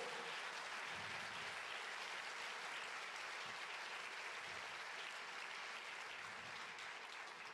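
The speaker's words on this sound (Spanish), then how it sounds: "Dele un aplauso fuerte al Señor." A church congregation gives sustained applause, a faint, distant, continuous wash of many clapping hands that holds at an even level throughout, with no voices clearly heard.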